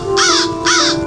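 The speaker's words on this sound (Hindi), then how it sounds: "चिल्लाता कौवा" A crow caws twice in quick succession, loud and close, each harsh call about a third of a second long over a steady low background hum.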